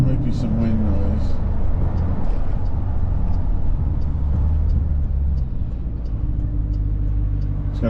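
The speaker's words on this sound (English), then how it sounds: "Got my window down right now though, so there might be some wind noise" Steady, loud rushing wind noise comes through the open window of a Jeep Grand Cherokee SRT with a GTHaus exhaust, mixed with road and engine rumble while it drives.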